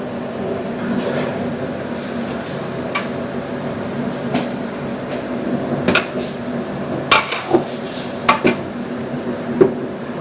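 Masala for gobi pulao frying in a pan, a steady sizzling hiss underneath, with sharp metallic clinks and scrapes of a utensil against the pan scattered through the second half.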